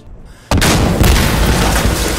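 In the video game Insurgency: Sandstorm, a sudden, massive boom erupts and rolls on as a dense, roaring blast with crackling debris, loud and close, without a break.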